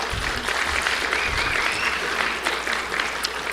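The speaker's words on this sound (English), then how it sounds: "we can give them a huge round of applause" Audience at a language summit giving students a big round of applause, a sustained, even roar of many hands clapping, with occasional sharper individual claps standing out.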